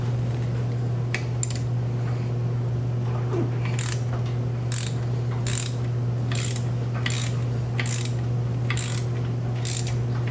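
Ratchet wrench turning a 13mm bolt on a brake caliper of a Camaro SS 1LE, with a series of crisp, evenly spaced clicking strokes over a steady low hum, close and fairly clear.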